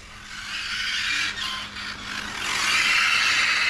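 A Hobao VTe GT electric RC car driving gives a continuous high whirring motor and tire hiss that rises toward the end, heard steadily with no voices.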